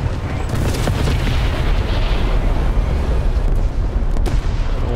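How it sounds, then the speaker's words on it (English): Artillery shelling in War Thunder near a French Lorraine 37L tank destroyer, a dense, loud low rumble of overlapping blasts and booms held steady throughout, with no clear separate impacts. "Oh no, artillery."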